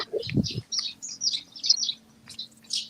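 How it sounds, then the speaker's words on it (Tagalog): Birds nesting inside a building chirp in a quick series of high, bright tweets, moderately close, after a brief low sound at the start, over a faint steady hum. "I think there are birds making their homes inside"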